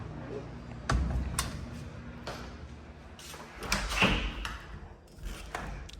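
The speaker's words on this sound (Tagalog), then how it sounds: "Sara natin ang pinto" A home front door swung shut with a solid thump, followed by scattered clicks and rattles of the lock and handle, close by and fairly loud in a quiet room.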